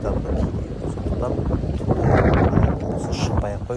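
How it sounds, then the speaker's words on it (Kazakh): A strong night wind by the sea buffets the microphone with a continuous rumbling gust, loud and unbroken, and a person talks over it. "түнде жел өте қатты отырады"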